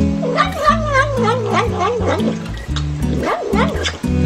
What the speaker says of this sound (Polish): Ten kotek jest tak wdzięczny za swoje pyszne kocie jedzonko, że mówi mniam mniam podczas jedzenia